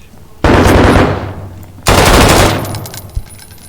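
Two loud bursts of rapid automatic gunfire from a video game, each rattling for about a second and separated by a short gap, followed by a fainter trailing shot.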